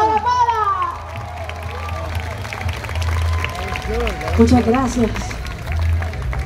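Audience applause and crowd noise at a tribute event honoring Rafael Hernández and Mirta Silvia, a steady wash of clapping running beneath close talking voices throughout.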